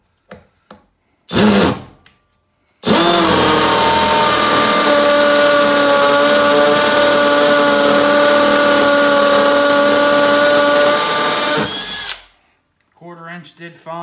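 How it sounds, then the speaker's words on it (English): A Milwaukee M12 1/2-inch hammer drill drives a 1/4-inch masonry bit into a concrete block. A short burst comes first, then a loud, steady whine with a rattling hammer action runs for about nine seconds before stopping. "So this is going to be a 1/4 inch masonry bit into this block."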